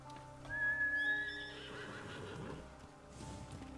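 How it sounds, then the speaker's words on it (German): A horse in Ghost of Tsushima whinnies once in a shrill rising call, followed by snorting and hoof clip-clops, quiet and with no voices. "Du bist ein gutes Pferd."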